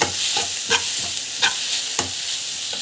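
Coriander and turmeric sauté in a hot pan with a steady close sizzle, while a utensil scrapes and stirs in a regular rhythm of soft strokes.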